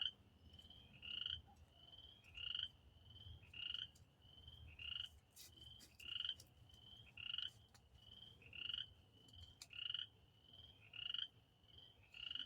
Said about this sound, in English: Yep, sounds like the peepers. No, that's a tree frog.